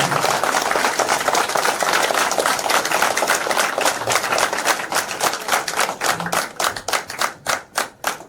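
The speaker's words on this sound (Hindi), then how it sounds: "मैं एक बार चाहूंगा एमडी सर के लिए जोरदार ताली" Loud, sustained clapping from an audience honoring the MD at a leadership program in Mount Abu, dense and continuous at first, then thinning into distinct rhythmic claps toward the end.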